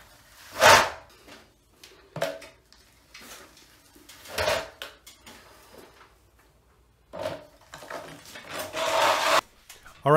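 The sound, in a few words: smoothing blade scraping joint compound on ceiling repair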